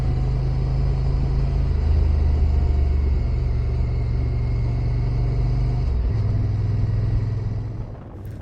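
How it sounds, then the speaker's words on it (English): A Honda NT1100 motorcycle cruises steadily at about 60 on an A-road, its engine a low, even drone with a slight shift in pitch near the end as it eases off. "Sweet motor on the NT1100."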